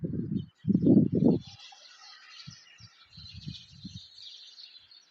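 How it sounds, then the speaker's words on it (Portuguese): Birds call at dusk as they settle to roost, with thin, scattered chirps in the background over a few low, muffled bumps near the microphone. "E olha os pássaros, barulho dos pássaros. Eles estão se recolhendo para dormir."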